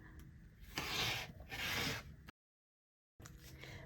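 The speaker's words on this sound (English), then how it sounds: "this groove down the center here is where I'm going to cut." A cutter drawn along a ruler through fabric along a pressed groove, heard as two close, raspy strokes in a row, followed by a brief gap and then soft rustling.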